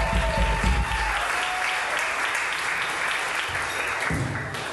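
An audience applauds at a rock orchestra concert, sustained clapping that runs loud throughout and fades slightly near the end.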